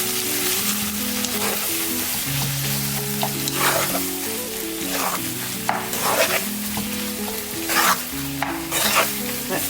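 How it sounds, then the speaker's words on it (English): A flaked salmon mixture being stirred in a pan for a salmon and vegetable quiche, with steady scraping and a soft sizzle underneath, plus occasional louder knocks of the utensil against the pan, close and continuous. "And you mix it all up now."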